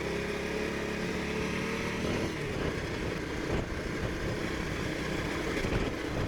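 A motorcycle engine drones steadily and close by on a wet road in Thailand, its rumble holding a constant pitch with slight surges as the bike rides on.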